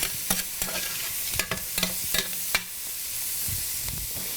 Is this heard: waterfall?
no